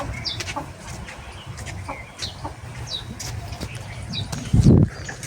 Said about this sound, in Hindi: ये है हमारी फीमेल टर्की